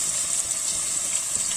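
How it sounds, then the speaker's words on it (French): Water pours steadily into a pan while spaghetti with merguez sausage and tomato sauce is being cooked, a continuous close gush of liquid with no talking. "Juste là, on va rajouter de l'eau."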